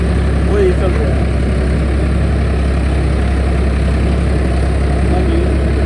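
Farmtrac 60 F17 tractor engine running steadily with a rotavator after tappet and pump setting, a loud, constant low diesel rumble with little change throughout.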